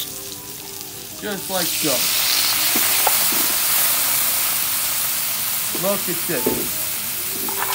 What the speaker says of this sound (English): We'll let that saute.